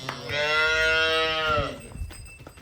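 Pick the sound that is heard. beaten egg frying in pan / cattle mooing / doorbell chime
cattle mooing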